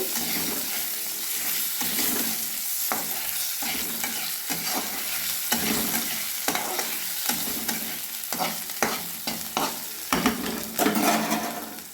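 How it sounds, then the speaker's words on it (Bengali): Panch phoron, dried red chili and bay leaf frying in hot oil for a fish dish, a steady crackling sizzle under frequent clattering stirs of a spoon against the pan, close and continuous with no voices. "পাঁচফোড়ন শুকনো লঙ্কা আর তেজপাতা ফোড়নটা এবার ভেজে নেব"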